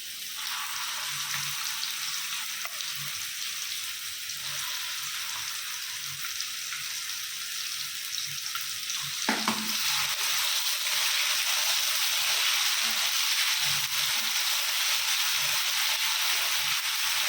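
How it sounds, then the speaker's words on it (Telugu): Onion paste and thotakura amaranth leaves fry in oil in a pan, a steady soft sizzle running throughout with faint stirring scrapes, growing slightly brighter partway through. "ఆనియన్ పేస్ట్ ఆకుకూర ఫ్రై అవ్వాలి కదా మనకి"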